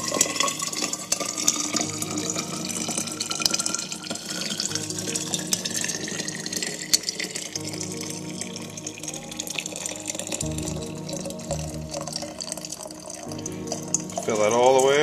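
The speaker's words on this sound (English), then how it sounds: "And then you pour. Fill that up." Hot water pours from an inverted kettle into a thermos while preparing mate, a continuous gurgling stream lasting several seconds with a person talking over it.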